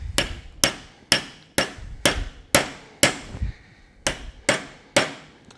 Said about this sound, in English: We're going to get it straight, and we're going to hammer it on.